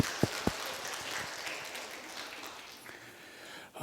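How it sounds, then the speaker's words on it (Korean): Congregation applauding during a Friday night church worship service, a steady wash of clapping spread across the room that fades out gradually, with no voices over it. "박수 한번 해주세요."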